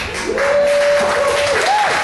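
Applause from an audience at a stand-up comedy set, a steady, moderately loud patter of clapping with a tonal whistle-like sound and some voices over it.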